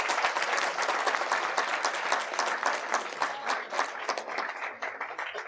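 An audience in a hall gives the college principal a sustained round of applause: dense, steady clapping from many hands throughout that tapers slightly near the end.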